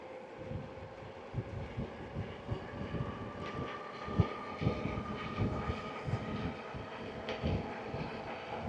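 An Actbest Summit full-suspension electric bike ridden fast on pedal assist level 5, with a steady faint motor whine and rolling tyre and wind rumble, with light rhythmic knocks, recorded on the move.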